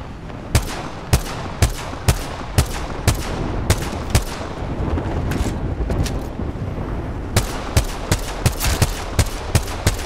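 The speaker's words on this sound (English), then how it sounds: "Is that another airstrike?" Airstrike explosions in the video game Apex Legends, a rapid series of sharp booming blasts in irregular bursts over a dense, constant rumble of battle noise, loud and close.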